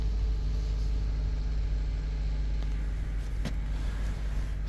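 A 1986 Chevy box truck engine runs steadily at a low idle, a continuous near rumble with a faint high whine on top and no talking.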